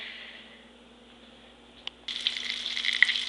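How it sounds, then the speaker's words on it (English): Food frying in a pan, a soft steady sizzle that suddenly grows louder and crackly with scattered pops after a brief clink. "So now it's sizzling"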